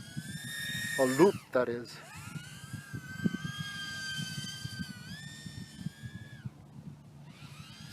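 Whining motors of a Happymodel Mantis85 85mm micro FPV racing drone, rising and sliding in pitch as the throttle changes, with sustained high tones under someone talking throughout.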